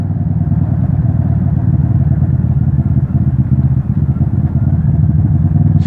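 A motorcycle engine runs steadily up close, a dense low mechanical rumble with slight clatter, holding a fairly even pitch for several seconds without talking over it.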